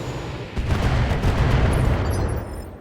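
A volley of long-range missiles fired at turrets in the BattleTech video game erupts as a loud, rumbling series of explosions that swell and hold, then fade slightly, with no voices.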